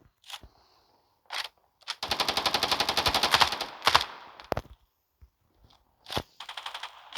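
Gunfire in the mobile shooter game Standoff 2: single shots, then a long rapid automatic burst, then more scattered shots and a short closing burst, loud and close, with no talk over it.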